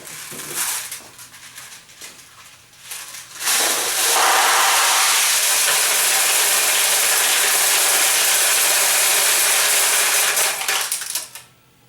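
Pachinko balls pour from the top tray of a Nishijin A machine and roll down a tube into the recycler tray, a loud continuous metallic rattling and clattering that starts after a few softer clicks and runs steadily before cutting off.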